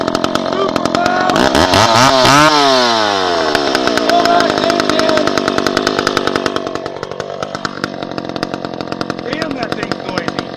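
An old 1010 chainsaw runs loud and close, revving hard and then settling back to a rattling idle, with a steady rapid engine pulse throughout.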